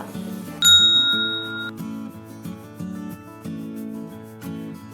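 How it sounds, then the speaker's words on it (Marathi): A bright bell ding rings out once as a subscribe-button sound effect over looping background music, then lingers and fades while the tune continues. "सबस्क्राईब करा आणि ही घंटी वाजवा"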